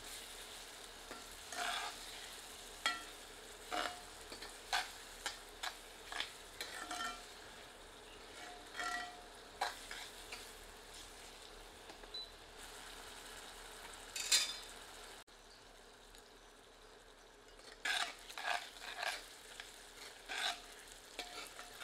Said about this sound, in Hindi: आंच मध्यम करके इन्हें तब तक भूनते हैं जब तक कि इनका रंग सुनहरा ना दिखने लगे